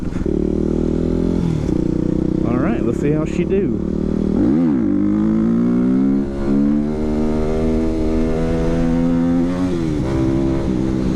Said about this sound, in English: It's got to be the chain, because the slower I'm going, the slower it makes the noise.